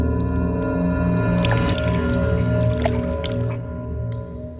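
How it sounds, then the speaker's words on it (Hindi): Water leaks and drips onto a terrace, with slow wet drips and squishy splashes over a sustained tonal musical drone, fairly loud and close, with no voices. "पानी लीक हो रहा है टेरेस पर।"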